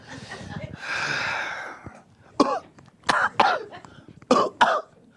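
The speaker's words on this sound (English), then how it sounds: "we got to practice our cough before we actually call in" A long wheezy breath followed by several sharp coughs in quick pairs, close and loud, like a deliberate, exaggerated cough.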